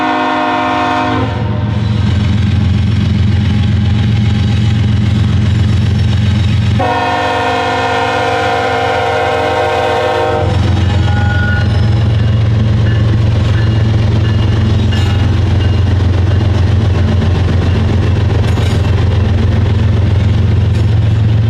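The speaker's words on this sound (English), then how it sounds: "eastbound Canadian Pacific through train number 244 as it made its way to the Detroit River Tunnel and into Canada" Canadian Pacific through train 244 rolls past on its eastbound run toward the Detroit River Tunnel, sounding loud and close, with a steady low engine roar and two long, sustained horn blasts near the start.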